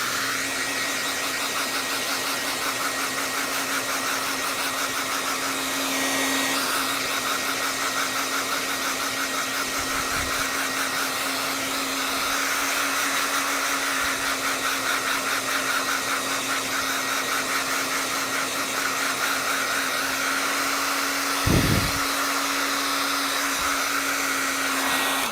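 A handheld dryer blows a steady, loud whoosh over an acrylic painting of a Valentine's cupcake. It runs without a break for the whole stretch, with no talking.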